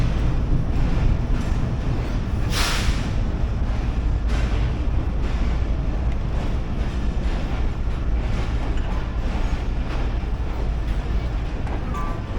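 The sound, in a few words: train departing from a railway station platform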